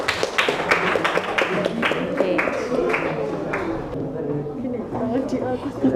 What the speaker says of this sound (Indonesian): kasih aplaus dulu ya untuk kelompoknya, kelompok 3 ya